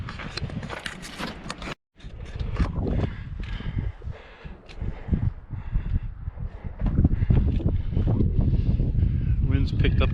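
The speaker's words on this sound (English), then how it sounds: "Wind's picked up a little bit, which is actually kind of nice." Gusty wind blowing across a Grand Canyon trail, rumbling in uneven bursts of buffeting close to the microphone, with faint footsteps and a voice now and then.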